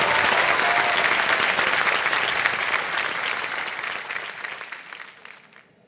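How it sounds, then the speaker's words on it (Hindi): A studio audience at a television quiz show breaks into loud, dense applause that holds steady and then gradually fades out. "तालियां बज जाए उनके लिए बहुत।"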